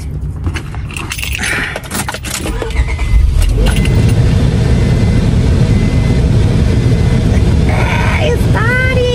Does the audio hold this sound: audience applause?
no